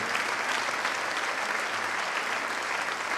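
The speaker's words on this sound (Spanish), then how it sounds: "Fuerte, fuerte ese aplauso al Señor" Church congregation clapping loudly during a Spanish-language service, a sustained, even roar of many hands that carries on without a break, heard from within the room.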